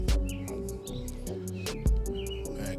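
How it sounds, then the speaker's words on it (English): Birds chirp in short repeated tweets beside an outdoor grill while jerk chicken is being cooked, with low music-like tones and occasional thumps running underneath. "I got these birds out here chirping"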